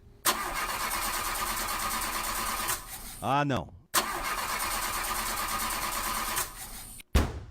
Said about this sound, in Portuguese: Não acredito que o carro não vai querer pegar de novo.